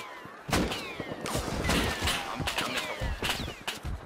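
Heavy M2 machine gun fire in the survival game Rust, a dense barrage of loud overlapping shots and thumps from several guns during a clan fight, with bursts running nearly nonstop.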